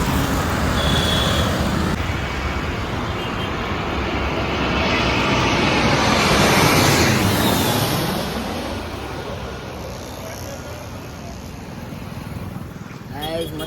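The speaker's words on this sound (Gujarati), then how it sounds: "મસ્ત પ્લેન દેખાઈ ગયું." An airplane roars overhead, swelling to a loud peak midway before fading, while road traffic rumbles steadily nearby and voices murmur faintly in the background.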